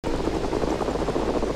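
Helicopter in the Plastic Army Men Invasion video game, a steady rotor thrum and whine running continuously and loud throughout, with no voices over it.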